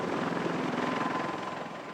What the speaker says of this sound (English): heavy lift helicopters kick up sand in a field across the street from the convention center